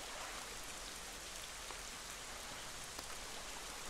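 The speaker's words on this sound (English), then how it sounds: "And now it's starting to rain." Steady rain in The Legend of Zelda: The Wind Waker HD, an even broadband hiss of falling drops that holds at a constant level, fairly faint and heard alone.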